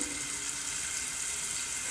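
Stuffed chicken breasts sizzle in a frying pan over high heat, a steady, even hiss of frying fat running without a break throughout, close and moderately loud with no voices.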